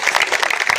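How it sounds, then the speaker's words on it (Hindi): A dense burst of crowd clapping at an outdoor political rally in Mirzapur, loud and continuous for under a second, with no voices on top. "तो जोरदार ताली बजा के"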